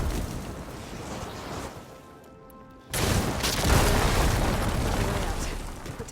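Blaze barrels in Horizon Forbidden West burst into fiery explosions, a loud sudden boom after a brief quieter stretch, followed by a sustained roaring, crackling wash of fire and debris.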